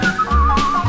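A young man whistles a melody line in a 1969 German stereo song recording, a clear sustained tone gliding between notes over low accompaniment.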